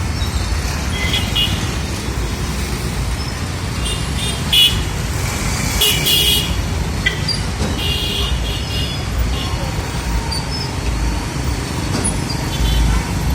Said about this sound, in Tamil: பாருங்க டிராஃபிக் எப்படி இருக்குன்னு.